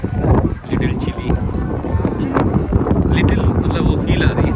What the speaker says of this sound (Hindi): एकदम ठंडी ठंडी हवा चल रही है पानी की वजह से ना